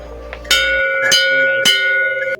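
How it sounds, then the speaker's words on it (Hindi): A metal bell at a Hindu temple entrance is struck three times at an even pace, each clang ringing out loud and close with a long shimmering decay. "तो ये है मंदिर का प्रवेश द्वार, जहाँ पर एक घंटी लगी है"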